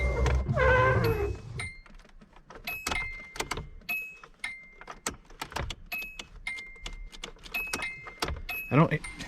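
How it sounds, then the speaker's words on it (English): Keys jangle and click in the ignition of a Nissan 240SX that is being revived, a sharp metallic rattle followed by repeated small clicks and taps, with a voice talking briefly at the start and end. "Let's turn the key."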